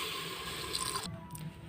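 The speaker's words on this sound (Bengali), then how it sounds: "এবার এখানে আমি দিয়ে দিব 1 লিটার পানি।" About a litre of water pours into a cooking pot of chicken vegetable soup, a brief, quiet, continuous splashing stream that thins out near the end.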